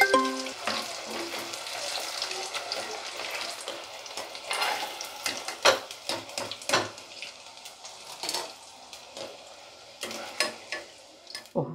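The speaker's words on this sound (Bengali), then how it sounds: "এইভাবে এগুলোকে ভেজে নিতে হবে লাল করে" Baby corn frying in oil until red and crisp, a soft continuous sizzle broken by clinks and scrapes of a utensil stirring the pieces, close and fairly quiet.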